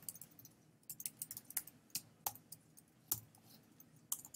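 Light, sparse clicks of typing on a computer keyboard while entering JavaScript code, scattered taps at an irregular pace in a quiet room.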